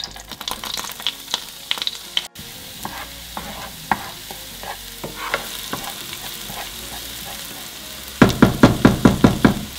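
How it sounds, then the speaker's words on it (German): Onion sweating in melted butter in a pan, soft sizzling beneath scattered light knocks and scrapes of stirring, ending in a quick run of sharper taps against the pan. "Jetzt, wo die Butter zerronnen ist, geben wir den Zwiebel dazu und schwitzen ihn an."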